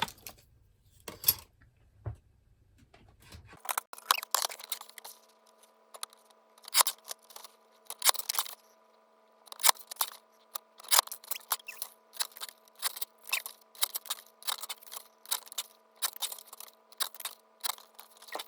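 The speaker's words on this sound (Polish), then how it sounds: "kawałki papieru kraftowego będę przycinała" Scissors snip repeatedly through kraft paper, crisp close cuts in uneven bursts after a few quieter rustles at the start.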